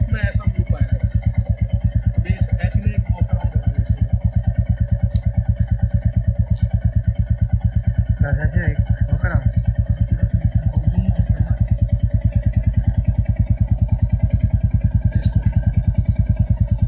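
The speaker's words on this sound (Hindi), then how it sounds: "आवाज सुन लो इसका जो थंप है ना और जो थ्रोटल की आवाज है।" A new 2023 Royal Enfield Bullet Classic 350 Reborn idles up close with a loud, steady, even thumping beat and faint mechanical clatter, while someone talks over it.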